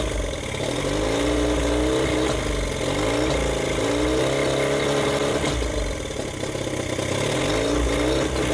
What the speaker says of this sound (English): Backfire going on.